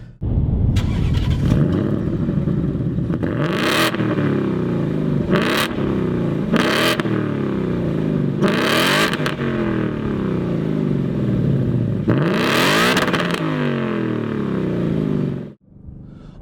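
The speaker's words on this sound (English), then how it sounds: "So this car is optioned with the active exhaust, and it sounds like a Mustang should sound." A 2018 Ford Mustang GT V8 with active exhaust revs repeatedly, loud and close, deep rumbling blips rising and falling, then the engine cuts off near the end.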